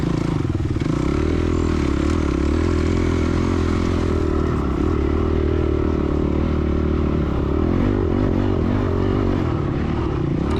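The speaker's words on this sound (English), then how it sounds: "You hear the engine revving, just going over all these whoops." A dirt bike engine revs hard and continuously as it rides over sand whoops, close and loud, with clattering and scraping mixed into the drone.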